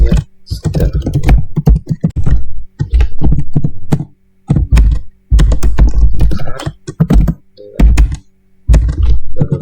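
Close, fast typing on a computer keyboard while writing program code, bursts of rapid key clicks separated by short pauses.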